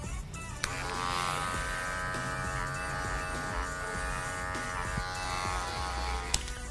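Electric hair clipper fitted with a guard, cutting hair for a women's faux hawk style: a steady close buzzing hum runs throughout with small shifts in tone, with no talking.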